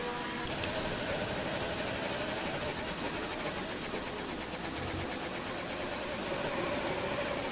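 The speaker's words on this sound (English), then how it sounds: "And apparently the engine of Humble Hippo sounds like absolute death." F1 race car engine in an F1 video game league race at the Russia circuit, a steady, dense mechanical drone running continuously at moderate level with no pauses.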